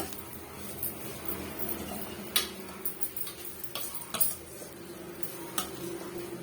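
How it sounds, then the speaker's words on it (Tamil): Grated carrot and coconut are sautéed in a pan for carrot rice, heard as quiet scattered clinks and scrapes of a spoon against the pan over a faint low sizzle. "சேர்த்துட்டு ஒரு டூ மினிட்ஸ்க்கு இதை வதக்கி விட்டுருங்க"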